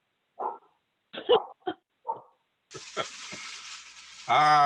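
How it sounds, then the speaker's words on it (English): A dog barks in a few short, separate bursts against a quiet background, followed by a louder, sustained sizzling hiss and a final harsh, pitched yelp near the end. "I'm going to let Doug talk until I can get the dog quiet."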